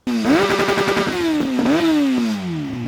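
A Yamaha YZF-R1 RN09 sport motorcycle engine revs hard and loud up close, pitch climbing and falling through repeated throttle blips with a rasping exhaust note and no talking.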